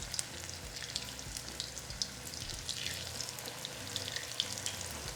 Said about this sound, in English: we're going to carefully place them in our hot oil